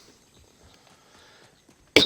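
A single sharp cough bursts out close and loud after a near-silent stretch of faint background murmur.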